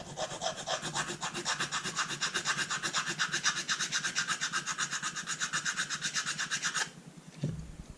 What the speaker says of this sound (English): Just keep filing them until I get them pretty tight.